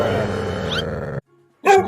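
A dog barks and growls in a short loud burst after a stretch of continuous voiced sound, then a brief gap and another sharp yelp-like bark.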